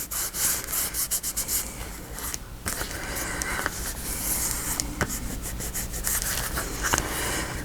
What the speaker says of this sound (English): rub off any extra glue